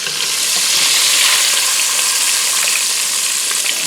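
Oysters deep fry in hot oil, a loud, dense, continuous bubbling sizzle heard close up without any pause or voices.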